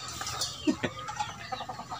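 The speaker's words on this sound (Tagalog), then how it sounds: "Ang dami rin palang inahin din eh" Hens cluck in short, irregular bursts over a steady low background hum, with a few sharper calls standing out.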